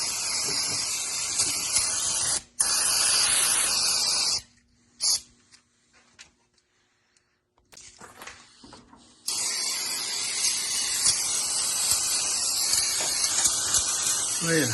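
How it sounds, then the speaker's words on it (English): A water hose sprays down the frame of a 1971 Chevrolet C10 gasser truck, producing a loud steady hiss that cuts out briefly a few times before resuming, with someone talking nearby. "And hose it all down."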